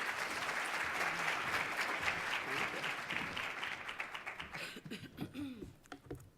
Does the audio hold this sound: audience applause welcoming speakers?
yes